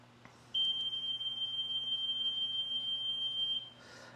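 A 1978 Amana Radarange Touchmatic II RR-10 microwave counts down an 8-second timer, then gives off one long, steady high-pitched electronic beep lasting about three seconds against a faint background hum.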